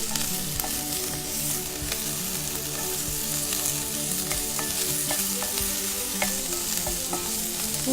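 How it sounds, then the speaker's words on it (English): Aromatics and thyme fry steadily in hot oil, a dense continuous sizzle with crackles and the occasional stir or scrape of a utensil, no voices. "I love when you burn the thyme in the oil"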